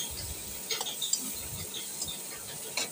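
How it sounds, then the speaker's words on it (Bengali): Chopped tomatoes, onion and garlic are stirred in a frying pan, giving a soft, steady scraping and light sizzle with occasional small clicks of the utensil against the pan, close by and without speech. "টমেটোটাকে পেঁয়াজ রসুনের সঙ্গে ভালো করে একটু মিশিয়ে নিয়ে"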